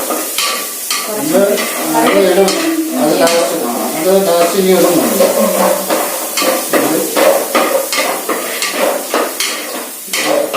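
Curry leaves crackle and spit vigorously in hot oil while beef roast is prepared, a loud continuous sizzle with sharp popping bursts and occasional stirring clatter, a voice talking over it.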